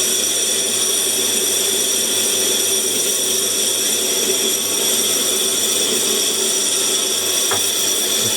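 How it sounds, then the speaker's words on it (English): A parting tool cutting off a metal workpiece on a lathe, lubricated with WD-40: a loud, continuous whining, scraping drone with steady tone throughout and a brief click near the end. "keeping an equal pressure on the parting tool"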